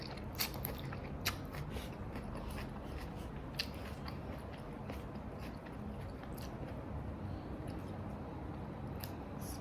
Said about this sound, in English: have a bite